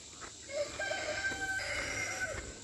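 On a small family farm, chickens gather as food arrives, with scattered clucks and a rooster's crow rising over a steady outdoor background hiss, moderately close.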